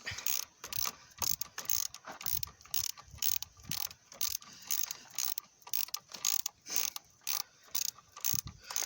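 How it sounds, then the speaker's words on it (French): Ratchet wrench tightening an engine mount bolt on a 2.0 dCi Renault Laguna 3 coupé, rapid rhythmic clicking in quick bursts with short pauses, close and clear. "Alors là, on vient visser."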